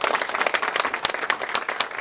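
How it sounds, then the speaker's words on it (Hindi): Dense audience applause welcomes a speaker at a memorial lecture in Uttarakhand, a steady patter of many hands clapping throughout. "डॉक्टर सुनीता नारायण का ताली बजा के स्वागत करूँगा"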